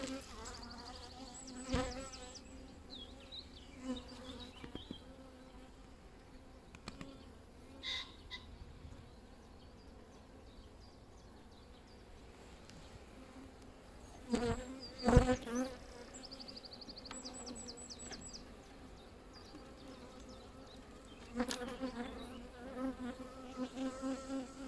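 Bees buzzing around an open beehive, a continuous droning swarm close by with individual insects flying past the listener, and occasional knocks and rustles from handling the hive.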